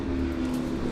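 A loud car engine drones steadily at close range, a brief sustained roar with no voices over it.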